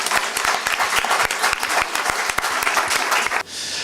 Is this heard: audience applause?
yes